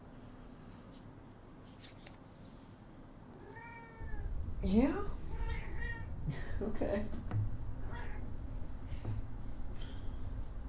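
A pet cat meows several times close by, with rising, drawn-out calls and a few shorter chirps, while a person talks quietly over a faint background hum.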